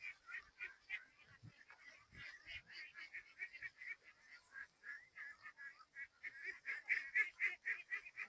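Ducks at a farm of two thousand birds near Inadganj bazar in a village, honking and quacking in a steady, dense chorus of repeated calls, growing louder toward the end.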